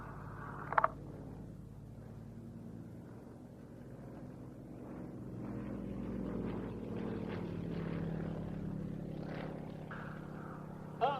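A Yak 52 aerobatic propeller aircraft flies at a Duxford flying evening, its engine droning faint and distant, rising and falling steadily, with a few sharp brief noises.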